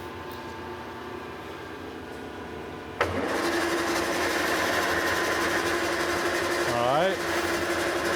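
A restored Monarch lathe with a 3-jaw chuck switches on with a sharp click, then settles into a steady, loud mechanical hum with a brief rising whine near the end, while a voice says a few words.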